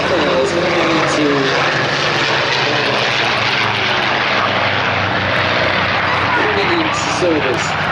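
A Supermarine Spitfire's propeller engine drones loudly and steadily overhead, a dense continuous roar with faint shifting tones, no voices present.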